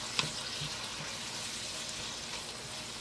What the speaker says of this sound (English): Hear that? Frying up really good.